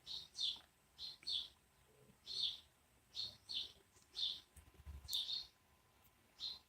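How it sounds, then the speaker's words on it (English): Small birds outdoors chirp in short, bright bursts, repeating roughly every half second to second. The calls are fairly faint over a quiet background. "can you hear the birds?"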